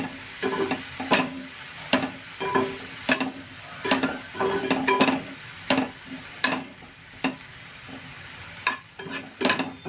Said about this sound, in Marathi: व्यवस्थित मसाल्यामध्ये परतून घ्यायचं तसं मशरूम पहिलं शिजवून घ्यायचं आहे मसाल्यामध्ये